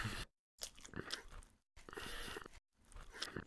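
Someone chewing a bread roll topped with Bautzner mustard, crunchy bites and mastication in several bursts separated by brief silent gaps, very close and quiet.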